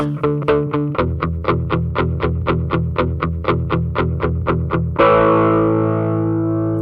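A heavily distorted electric guitar played through an amp simulator chugs a fast, even rhythmic riff, then ends on a ringing sustained chord that fades, loud and close.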